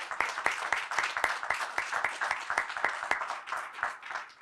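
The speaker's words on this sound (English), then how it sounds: "Join me for one more round of applause for them." An audience at a grand opening claps steadily, individual hand claps distinct and rhythmic, moderately loud and continuous across the whole stretch.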